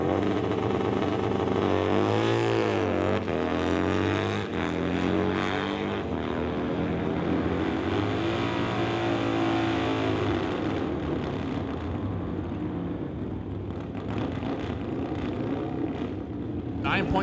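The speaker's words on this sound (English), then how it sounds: "the Torque Twisters Racing Harley Davidson will be on a solo pass down the racetrack" The Torque Twisters Racing Harley-Davidson drag bike makes a solo pass down the drag strip, a loud engine roar climbing sharply in pitch and then holding a sustained, heavy howl, with announcer commentary over it.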